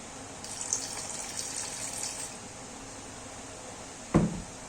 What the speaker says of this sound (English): I'm gonna thin this out with water